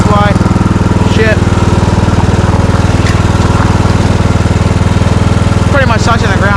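A custom-built snow lawnmower with loose bolts, its engine running close and loud in a steady, throbbing drone throughout, with a voice briefly heard over it.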